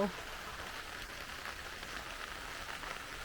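Rain comes down on a campsite as a soft, continuous hiss that stays steady and fairly faint.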